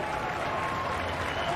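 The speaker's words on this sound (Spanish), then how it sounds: "la gente le aplaude" Stadium crowd applauding goalkeeper André Blake at a Copa Oro 2021 football match, Guadeloupe against Jamaica: a steady wash of distant clapping and crowd noise throughout, short and unbroken.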